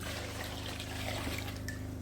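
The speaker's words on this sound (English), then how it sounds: "just going to add a little bit of water here." Water trickles and pours in a thin steady stream into a bucket of quicklime being mixed for lime wash, close by and fairly quiet, with no talking.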